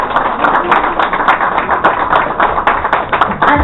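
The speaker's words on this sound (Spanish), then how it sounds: "Un aplauso, por favor." Audience applauding at a Mexican civic ceremony as a name is called, dense steady clapping from many hands with a few sharper individual claps throughout.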